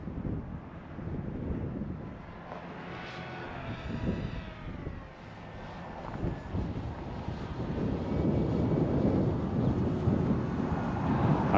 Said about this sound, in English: I wish it was not windy